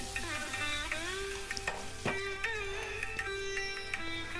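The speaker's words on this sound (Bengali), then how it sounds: "মোটামুটি দশ মিনিট মতো আলুটা ভাজবো" Soft, steady sizzling of potatoes frying in oil, with faint scraping and stirring sounds close by.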